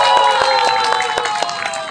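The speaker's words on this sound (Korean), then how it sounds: "다시 한번 큰 박수 부탁드립니다" Crowd at a climate justice rally in Daejeon applauding, a dense steady patter of clapping with scattered cheers and voices mixed in, loud and close throughout.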